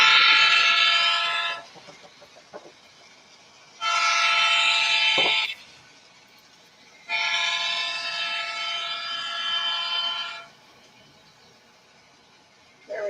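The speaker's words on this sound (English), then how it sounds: "There's one more horn flute for you." Model train engine horn sounding three loud sustained blasts of about two to three seconds each, separated by quieter pauses with faint mechanical clicks, close and clear with no talking.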